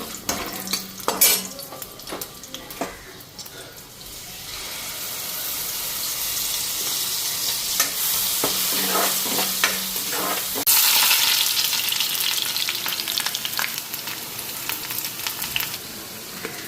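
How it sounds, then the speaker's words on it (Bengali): Potatoes frying lightly in a pan with salt and turmeric, a steady close sizzle that swells partway through, broken by the scrape and clink of a spatula stirring against the pan. "এটার মধ্যে লবণ হলুদ সব একবারে দিয়ে দিছি, আর আলুটা হালকা ফ্রাই করে নিলাম"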